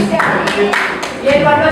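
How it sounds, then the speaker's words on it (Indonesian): A short burst of hand clapping, rhythmic and fairly close, mixed with a voice talking over it. "Berikan tepuk tangan untuk"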